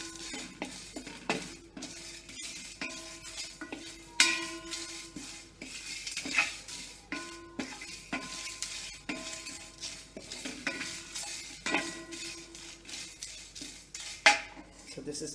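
Curry leaves and red chilies roasting in ghee in a pan give a soft crackle, with repeated clinks and scrapes of a utensil stirring against the metal.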